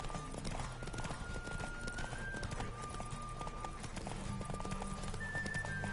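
Roach, Geralt's horse in The Witcher video game, galloping with a steady, rapid clip-clop of hooves that runs continuously, moderately close, over faint game ambience.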